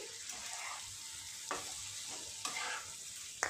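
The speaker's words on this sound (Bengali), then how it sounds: "কিছুক্ষণ কষে নিলেই আমাদের চুনো মাছের চচ্চড়ি একেবারে রেডি" Small fish chorchori (chuno mach curry) being stir-fried in a pan gives a soft, steady sizzle, with a few sharp scrapes of the utensil against the pan at about one-second intervals. No one talks.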